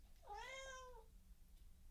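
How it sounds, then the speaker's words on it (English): A single clear cat meow, close and fairly loud, rising and then falling over about a second before quiet returns. "Oh, Kitty says the end as well."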